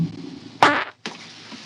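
A fart sounds in two bursts, a loud buzzy one followed by a longer, lower rumbling one, heard close and over quiet background chatter.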